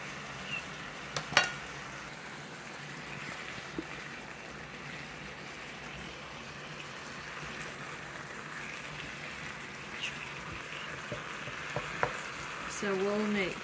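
Ground meat browning in a hot pan for chili, a steady close sizzle and crackle with occasional scrapes and clinks of a utensil stirring it, continuing throughout.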